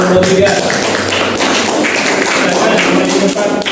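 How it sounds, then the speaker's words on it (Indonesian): Classroom group applause rings out for a presentation, quick dense clapping with taps and thumps, loud and close, while voices talk over it throughout. "Tepuk tangan untuk kelompok 3."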